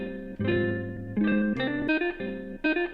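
A short guitar sample sped up to 160 BPM with audio warping on a sampler, played fast, its notes slightly warped and watery, distinct plucked tones rising and falling with no voices.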